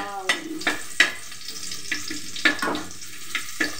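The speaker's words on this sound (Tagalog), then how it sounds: "Unahin natin ang bawang, halu-haluin, hanggang sa mag-golden brown." Garlic sautéing in a frying pan, with a steady sizzle broken by repeated sharp scraping stirs, about eight strokes spaced irregularly, close and moderately loud with no talking.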